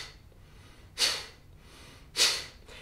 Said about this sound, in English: the exhale is through your nostrils. It's fast and sharp, just like when you cough.